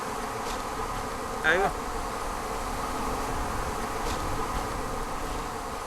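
Steady insect buzzing from a swarm of honeybees in Yemen, a continuous droning hum with a brief closer flyby standing out, no voices.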